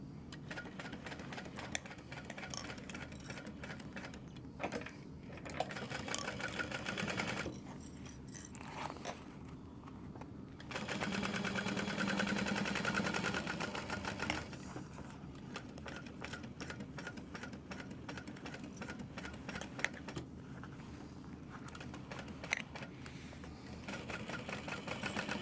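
Domestic sewing machine stitching the exterior of a tote bag, a fast continuous mechanical whir in several long runs with short pauses between, fairly quiet and close.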